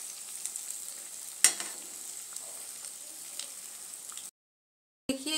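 Dahi vada batter frying in hot oil gives off a steady, soft sizzle with a sharp spatter as pieces go in and light stirring scrapes, then a brief silence and renewed bubbling.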